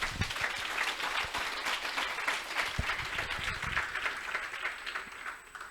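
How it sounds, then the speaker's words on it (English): A seated audience at a chat event applauds in a steady wash of clapping that fades slightly toward the end, with a faint voice briefly underneath. "Round of applause."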